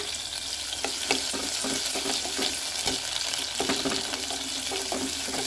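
Ginger garlic paste fries in a pan for a broad bean curry, giving a dense, continuous sizzle. Quick spatula scrapes and clicks tick through it steadily.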